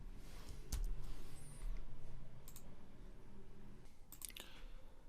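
Keys tapping on a computer keyboard while HTML code is typed, a soft, irregular run of clicks close by with a few sharper strikes over a steady room hum.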